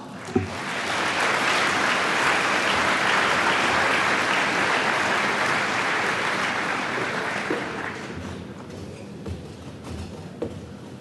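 Audience applause at an agricultural alumni fish fry, loud sustained clapping from a large room that swells for about eight seconds, then thins out to a few scattered claps and small knocks.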